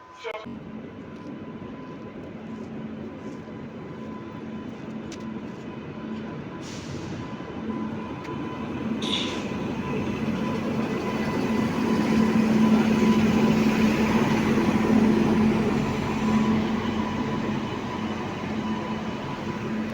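A train at Durgapur railway station gives a steady low idling rumble with a sustained hum that swells louder toward the middle, plus a few sharp clanks, with voices and station noise in the background.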